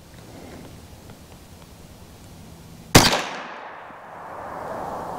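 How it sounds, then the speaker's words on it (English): A single CCI Velocitor rimfire round fired into ballistic gel outdoors: one sharp, loud crack that decays quickly into a fading rumble after a quiet lead-in. "let's get 5 shots on these Velocitors, y'all"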